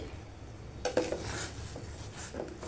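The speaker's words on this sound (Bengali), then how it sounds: "একটু নাড়িয়ে দিলাম" Spoon stirring milk custard with sugar in a metal pot, a few faint scraping clinks against the pot over a soft background hum.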